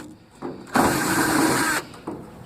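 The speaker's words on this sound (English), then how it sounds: "Now we'll take the screws out." Screws are backed out of an aluminium hinge on a truck tool box, a loud close burst of whirring power-driver noise lasting about a second between short clicks and scrapes.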